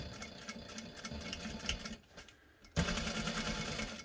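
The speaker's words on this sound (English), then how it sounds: "Now we're going to start at the end of one and sew all the way across, making sure we backstitch at the start and the stop." Sewing machine stitching a straight seam on a drawstring dice bag, running in a steady rapid mechanical whir that stops briefly for about a second, then resumes at full speed up close.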